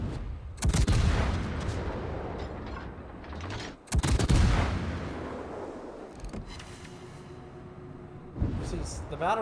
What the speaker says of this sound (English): See, the battleships are shooting it, Arman's shooting it, the torps weren't really needed